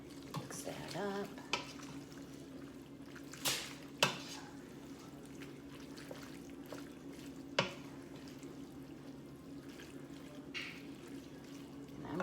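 A spoon stirs hamburger stroganoff in a pan, with soft scraping and occasional sharper clinks against the pan over a low steady kitchen hum, fairly quiet and without talk.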